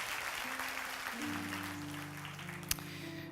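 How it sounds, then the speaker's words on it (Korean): Warm applause from the congregation during a Sunday worship service at a Korean church, an even wash of clapping with a sustained instrumental chord underneath and one sharp clap near the end. "또 이런 그 나눔을 올리신 분 뜨거운 박수로 한번 다시 한번 감사를 드리고"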